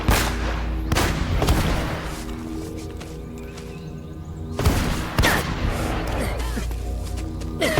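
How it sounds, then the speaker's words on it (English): Rapid enemy rocket and grenade fire in the Uncharted 1 video game, sustained booming blasts with two sharper explosive bursts near the start and two more later, loud and dense throughout. "They're just spamming rockets and grenades."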